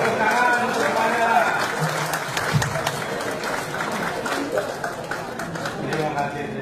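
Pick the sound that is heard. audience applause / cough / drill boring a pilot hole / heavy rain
audience applause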